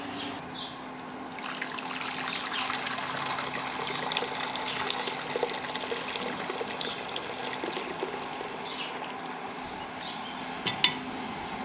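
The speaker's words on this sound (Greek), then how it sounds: "Ζεστό νερό έχω βάλει." Hot water is poured and trickles into a pot while nettle soup cooks, a soft continuous splashing with a faint steady hum and a few light clinks of utensils near the end.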